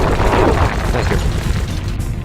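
A mine being destroyed in the Sly Cooper and the Thievius Raccoonus video game produces a loud, rumbling explosion boom that sustains for a couple of seconds before slowly fading.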